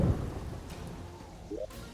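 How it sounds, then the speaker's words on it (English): Thunder rumbles low under steady rain in a Terraria thunderstorm, a continuous wash of falling rain with a deep roll fading through the short stretch. "I think it's like the rain, the thunderstorm thing."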